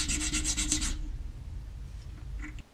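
A press tool's edge is touched up with a stone in a quick series of close, rhythmic rubbing strokes, after which the sound drops to a faint background.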